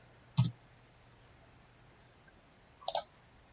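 Two separate clusters of mouse clicks at a computer running circuit software, sharp and close, with near silence between them.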